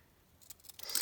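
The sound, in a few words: zigzag scissors snipping fabric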